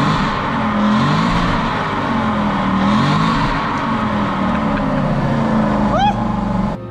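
Steady engine drone from a V8-powered Aston Martin Vantage N400 special edition, a sustained low hum with gentle rises in pitch as it revs slightly, under a voice talking throughout.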